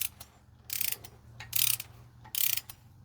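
Wrench ratcheting on cylinder head bolts of a 1997 Jeep Grand Cherokee ZJ engine during a head gasket install: three loud, close bursts of quick clicking, separated by quieter pauses.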